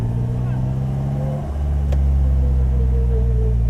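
A 2018 Polaris Slingshot SL's engine rumbles steadily up close, a low loud drone that dips briefly and then swells into a deeper, stronger rev.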